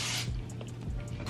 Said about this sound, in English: I'm just gonna spray that down this hair